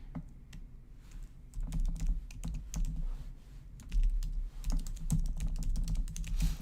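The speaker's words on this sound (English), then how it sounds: "I'm going to type in my link here." Rapid keystrokes on a computer keyboard as a link is typed in, continuous close clicking in quick uneven bursts with brief pauses, alone without any talk.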